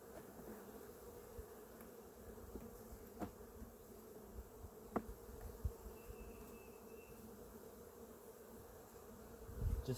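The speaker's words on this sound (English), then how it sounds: "Just don't want to like roll the bees or jar the bees." Honeybees buzz around an open beehive during a hive inspection, a faint continuous hum with a few soft knocks and clicks scattered through it.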